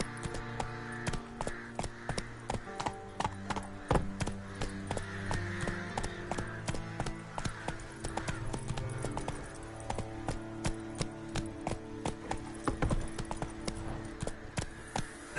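Roach the horse galloping in The Witcher 3: Wild Hunt, a steady run of sharp hoof clip-clops at a quick, even rhythm, close and clear with little else around.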